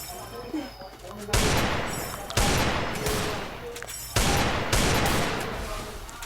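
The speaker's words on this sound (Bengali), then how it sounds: "ওকে গুলো মারছি" Gunfire in the Free Fire video game: three sharp, loud bursts of shots at roughly one-second intervals, each decaying into a noisy tail, with game ambience between them.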